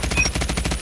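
Rapid automatic fire from the RUS-79U in a shooter video game, a continuous fast, even rattle of shots, loud and close, lasting under a second with no speech.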